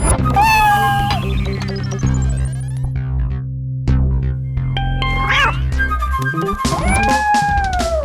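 A domestic cat meows loudly and repeatedly over several seconds, its calls rising and bending, mixed with background music in a Hindi comedy film scene.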